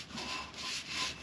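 A cloth rubs and wipes inside a John Deere hydraulic filter housing in three quick, close strokes, with no talking.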